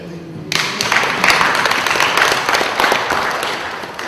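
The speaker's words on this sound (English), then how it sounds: "Clap seriously that there are many who are going to be in heaven." Congregation at a memorial service celebrating a late man's life bursts into clapping: sudden onset of dense, sustained applause from many hands, loud and close, after a brief moment of quieter room sound.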